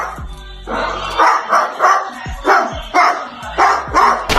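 A parrot imitates a dog's bark at a sleeping dog: a string of about eight sharp, regular barks, close and loud, with a soft whimper-like sound at the start.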